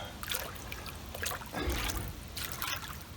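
Water trickling and splashing into a full mountain spring basin fed by overflowing gutters, a continuous close bubbling flow with brighter gurgling surges, heard alone without talk.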